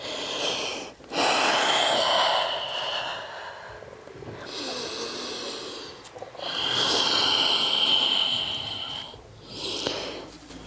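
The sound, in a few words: exhaling during yoga stretch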